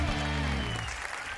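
Applause for the newly crowned winner of a televised masked-singer grand final, with music at first and then a steady wash of clapping.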